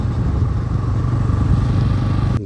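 A motorcycle engine labours while the bike sits stuck in sand beside a cremation ground, its steady, loud, rough drone running close and unbroken before cutting off at the very end.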